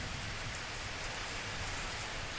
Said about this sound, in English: Focusing on the sensation of raindrops hitting his skin and listening to the rhythmic patter against his helmet